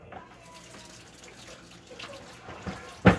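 Kitchen sink tap running in short bursts while used baking utensils are rinsed, quiet at first and then swelling into a louder splash near the end.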